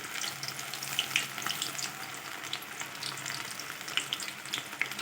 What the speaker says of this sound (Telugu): ఈ మిల్ మేకర్ అంతా మిశ్రమం చేసుకున్నాం కదా దీన్ని ఇలా వేసుకోవాలి మొత్తం వేసుకొని వేయించుకోవాలి